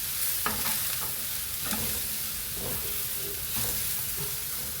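Spices for a Maharashtra-style chicken curry frying in a hot pan, a steady bright sizzle with occasional stirring scrapes, continuous and close, with no talking.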